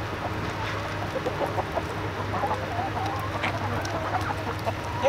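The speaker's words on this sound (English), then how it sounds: "Let the poor little hen in there." Soft clucking from a bantam hen among other chickens in a farmyard coop, scattered short calls over a steady low hum, fairly close and moderately loud.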